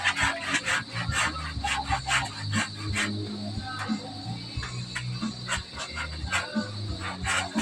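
Hand saw cutting a tree branch outdoors: steady back-and-forth rasping strokes in a rapid regular rhythm, fairly close, with insects chirping faintly in the background.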